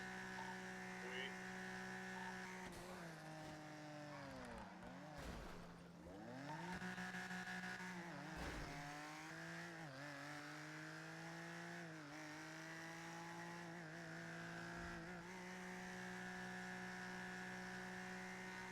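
Engine of a car in a French roleplay video game, a steady drone with rising and falling pitch as it drives and shifts, heard close and loud throughout while players talk over it.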